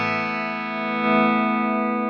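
Marshall DSL 100 H amplifier with the gain turned up, driven by a Schecter Banshee electric guitar: a sustained, mildly overdriven chord rings steadily, swelling slightly louder midway with only light distortion, no talking.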